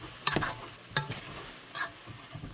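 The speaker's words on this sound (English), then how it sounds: "we're going to stir that around" A spoon scrapes and stirs garlic around in a pot of moose stew, with a soft sizzle underneath and a few clinks of utensil against the pot, close by.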